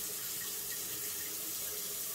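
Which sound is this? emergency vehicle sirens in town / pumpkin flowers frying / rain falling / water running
water running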